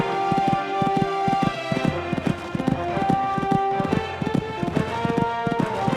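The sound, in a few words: horse hooves cantering on cross-country course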